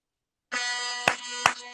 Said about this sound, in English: That was like an air horn. That was an air horn, man.